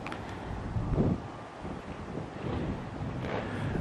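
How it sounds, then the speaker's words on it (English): Breezy outdoor wind buffets a Canon EOS M100 camera microphone fitted with a furry deadcat cover, producing low rumbling gusts that swell and ease, fairly faint, with no speech. "A little bit breezy out here."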